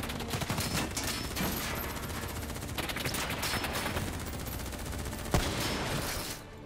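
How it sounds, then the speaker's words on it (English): Sustained automatic gunfire in Call of Duty Black Ops 3, a continuous rattling fusillade with a few sharper bangs, fairly distant and steady until it cuts off near the end. "Who's shooting?"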